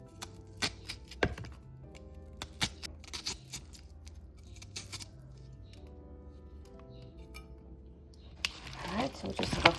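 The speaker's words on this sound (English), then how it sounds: "I'm going to cut up a piece of onion upon it" A knife chops an onion on a board while Jamaican curry chicken is prepared, giving scattered sharp taps and thunks at an irregular rhythm, followed by a burst of rustling handling noise near the end.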